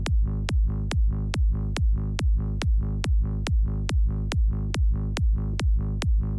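Psytrance kick drum and sliding bass line play alone, a punchy kick thumping steadily on every beat with a rolling bass filling the gaps between hits, loud and even.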